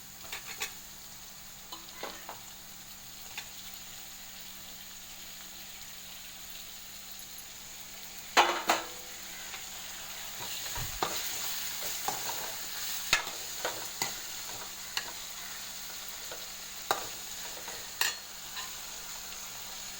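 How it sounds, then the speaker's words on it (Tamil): Tomato fries in ginger garlic paste in a pan, a low steady sizzle broken by scattered scraping stirs and a few sharper clinks of the spoon against the metal, with no voices. "தக்காளி பழம் நல்லா குழஞ்சி வர வரையும் நல்லா வணங்கணும்"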